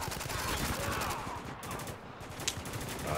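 Gunfire in the shooter Spec Ops: The Line, a continuous rattle of rapid automatic shots with one sharper crack near the end. It stays loud and dense throughout.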